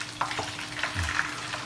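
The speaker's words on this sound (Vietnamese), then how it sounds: "Bây giờ mình bỏ nước sốt chế vô con cá nha, rưới vô con cá." Homemade sauce poured over a frying fish in a pot sizzles loudly and crackles close up, with a few sharp spits and pops and no talking.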